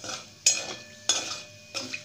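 Cumin seeds and bay leaf dropped into hot oil left from frying potatoes, crackling in close bursts with three sharp sizzling onsets that each fade quickly.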